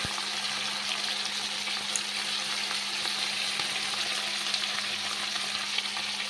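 Prawns frying in hot oil with salt and turmeric give a steady, close crackling sizzle that stays at an even level throughout, with no talking.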